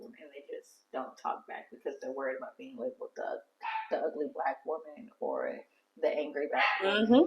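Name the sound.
dog barking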